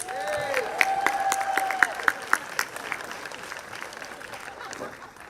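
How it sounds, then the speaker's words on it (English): Audience applause at a community gala night, a steady wash of clapping from a crowd with a few sharper claps standing out, sustained throughout and fading slightly toward the end. "Do we want to give them another round of applause?"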